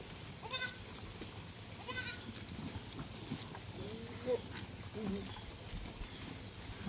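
A few goats bleat intermittently on a farm, fairly distant and faint beneath a steady background hiss, with a couple of short wavering calls.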